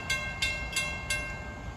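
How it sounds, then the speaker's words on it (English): An electric commuter train on the Port Jefferson Branch runs close by, heading west from Huntington toward New York, with a steady rumble and four evenly spaced rhythmic clacks of wheels over rail joints. "Approaching west at 3:34 is train 1709, Huntington to New York."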